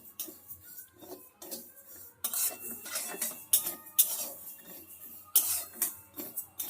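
Dal made with jackfruit seeds is stirred constantly as it lightly fries in a pan, a utensil clinking and scraping against the metal in irregular bursts, fairly close and without any talk.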